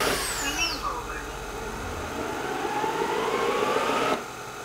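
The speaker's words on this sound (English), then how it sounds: "And here's what it sounds like with self-cleaning." Roborock Dyad Pro Combo wet-dry stick vacuum running its self-cleaning cycle, a continuous whirring motor and water-churning sound with shifting tones that drops away near the end.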